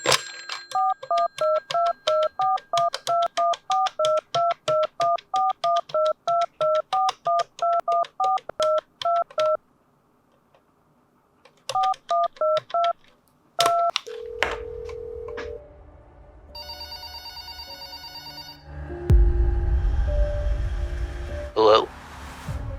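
Touch-tone telephone keypad dialing a number: a long run of rapid, evenly spaced DTMF beeps, a pause, then a few more tones, followed by a brief ring and garbled phone-line noise.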